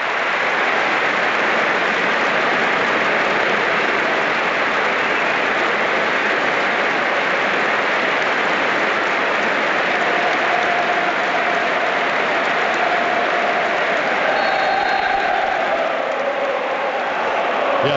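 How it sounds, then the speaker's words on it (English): A packed stadium crowd at the Liverpool vs Tottenham Champions League final gives a long, unbroken wash of applause in memory of José Antonio Reyes, heard from a distance as a steady, rain-like roar. "And now the applause around the stadium to remember José Antonio Reyes."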